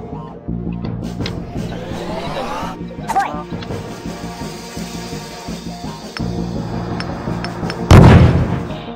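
Grenade launched and exploding in the Wormix online artillery game: dense layered game effects with a whoosh and pop near three seconds, then a loud, sudden blast at about eight seconds that rumbles out.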